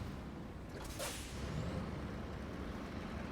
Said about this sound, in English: Had to kick the brakes in there, sorry. Love the way they sound, though.